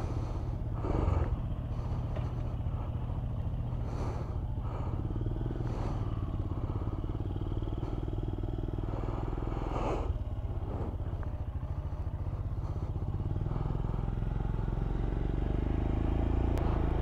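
A motorcycle engine runs steadily throughout, a continuous low rumble with occasional clattering bursts and knocks, fairly close and without speech over it.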